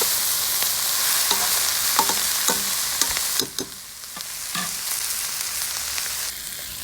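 Onion with garlic and other ingredients sautéing in a pot for masmouta, with a strong hissing sizzle and intermittent utensil scrapes and knocks that ease off partway through, close by and without talk.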